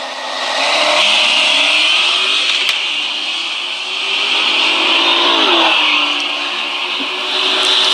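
A drag race launch at Drag Week 2018, with the Attempted Murder Nova against Wayne Wills in a 2010 Camaro: loud, sustained engine roar with rising, sweeping pitch as the cars pull away, close and steady, no talking.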